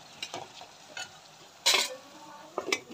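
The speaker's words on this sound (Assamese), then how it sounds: "এফালে লেছাৰা ভাজি আছোঁ মই" Lesara fern greens frying plainly in a pan without potatoes, with short bursts of sizzle and stirring scrapes spread through the moment, one louder sizzling surge in the middle, close and moderately loud.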